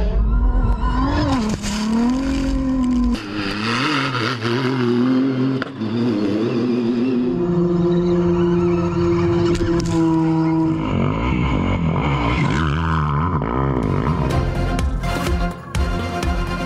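Dakar Rally cars and motorcycles driving on desert sand in Saudi Arabia, a loud, shifting blend of revving engines, rising and falling pitch sweeps and passing roars across successive shots.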